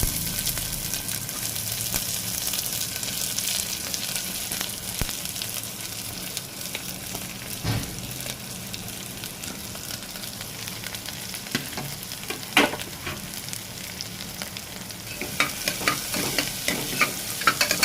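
Onions sautéing in hot oil with mustard seeds and urad dal for sambar, a steady crackling sizzle with occasional spoon scrapes and knocks, close and continuous with no talk.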